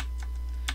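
Computer keyboard arrow keys are tapped while playing Pac-Man in a Google browser trick, a few sharp, close clicks spaced out over a quiet low hum.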